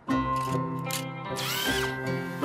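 A cartoon Wonder Drill 2200 power drill runs steadily and loudly, with a whirring tonal hum and a rising whine partway through, alone without talk.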